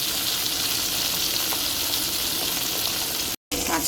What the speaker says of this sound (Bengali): তো এই যে এখানে 2খানা বাটা মাছ একটুখানি সুন্দর করে ভেজে